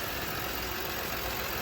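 A car engine idles roughly with its PCV vacuum line disconnected, giving a steady, close, continuous rumbling hum with no voices over it.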